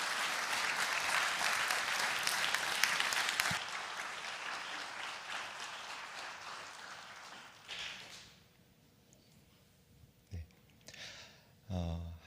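A church congregation claps during a Wednesday evening worship service, with loud, dense applause for about eight seconds. It then fades to near quiet, broken by a few short thumps.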